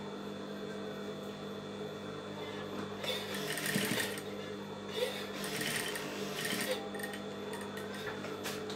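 A sewing machine stitches a folded fabric face mask, running in two short quick bursts of rapid whirring over a quiet room background.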